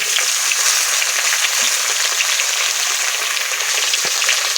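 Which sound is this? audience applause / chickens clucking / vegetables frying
vegetables frying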